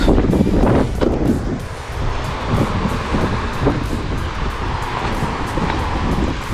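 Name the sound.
wind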